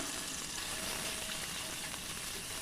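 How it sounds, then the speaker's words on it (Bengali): Ginger paste sizzles with onions in a pan, a soft, steady, faint frying hiss with light stirring and no voices. "পেঁয়াজের সঙ্গে আদা বাটাটা একটুখানি ভাজা ভাজা করব"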